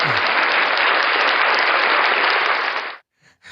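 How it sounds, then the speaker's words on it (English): An audience claps loudly and steadily for about three seconds, then the applause cuts off abruptly, leaving near silence. "give it a round of applause for him"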